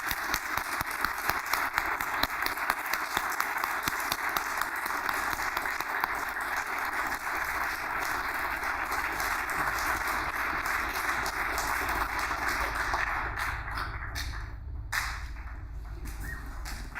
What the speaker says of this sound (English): Please join me in a round of applause for Cadet Rosario.